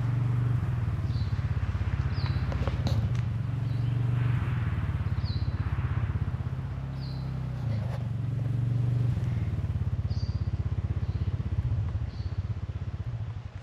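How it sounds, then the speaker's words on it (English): A dirt bike engine runs nearby in a Chilean forest at night, a continuous low chugging drone that rises and falls slightly as it revs, with faint high chirps scattered over it and no one talking. "I can hear it again, but the dirt bike's really close now"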